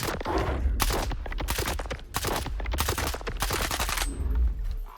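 Rapid bursts of Gvintar rifle gunfire in STALKER 2, several loud shots in quick succession with dense crackling reports and a lingering low rumble, no voices.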